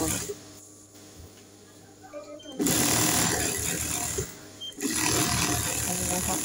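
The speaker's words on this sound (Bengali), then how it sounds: "এখানেও কিন্তু সেম ভাবে আমি 2টা সেলাই দিয়ে দিলাম" A sewing machine runs two bursts of stitching along a seam, a loud, close, rapid mechanical whir, with a quieter voice speaking in the pauses between runs.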